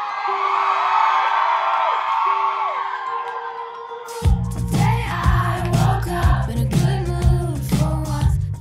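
A large concert crowd at one of an artist's first shows cheers and whoops, starting as a murmuring hum and then erupting into loud, sustained cheering with scattered shouts and whistles.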